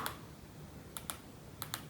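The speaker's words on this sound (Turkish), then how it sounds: "Girmek için burada klavyeden yazalım" Keys on a Piranha mini wireless keyboard click softly in small clusters, one press, then pairs, faint and close with no talking.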